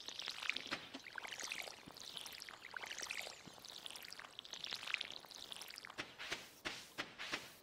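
Watering crops in the video game Stardew Valley: repeated splashy pouring whooshes from the watering can in a steady rhythm, followed by a run of sharp clicky footstep-like game sounds, no talk.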